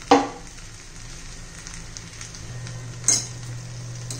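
Veg Schezwan fried rice being stirred in a hot pan, a steady low sizzle with two sharp metallic clinks of a spoon against the pan, close, no talking.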